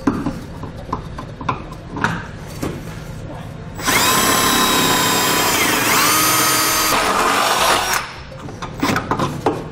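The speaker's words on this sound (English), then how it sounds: "we're going to use a drill bit to drill out a hole in the frame" A power drill whines steadily for several seconds boring a hole in a metal vehicle frame of a 2013 Lincoln MKX, loud and close, bracketed by clattering handling noises before and after.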